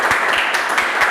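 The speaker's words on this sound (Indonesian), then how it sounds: "Kita berikan tepuk tangan yang paling meriah" Lively audience applause at a cultural event during a plaque presentation, a loud, dense clapping wash with some individual claps popping out, steady and close.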